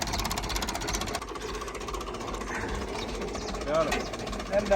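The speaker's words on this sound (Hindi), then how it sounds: "हमने ट्रैक्टर जो है वो चला लिया" Tractor engine running while ploughing a wheat field, a rough continuous rattling drone with fast knocking pulses, loud and close, fairly even throughout with a couple of brief surges near the end.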